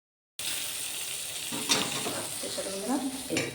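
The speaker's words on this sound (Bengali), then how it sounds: "ক্যাপসিকামের উপরে টমেটো কুচিগুলো দিয়ে দেবো। এটা হালকা নাড়াচাড়া করে" Chopped tomato and capsicum sizzling in a frying pan, a continuous fry hiss broken by a few scraping strokes as the vegetables are stirred, close and fairly soft.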